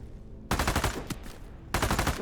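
Automatic gunfire from enemy mimics in the video game The Radius 2, loud and close: a dense burst of rapid shots lasting over a second, then a pause and another sharp burst, with no talk over it.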